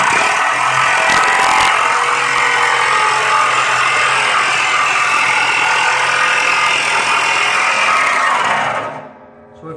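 Jigsaw cutting through a steel oil drum, a loud, steady buzzing rasp of blade on sheet metal that runs unbroken for about nine seconds, then cuts off as the saw stops.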